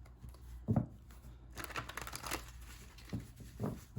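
Soft crinkling and riffling of tarot cards being shuffled in a few quick bursts, close and quiet against a hushed background.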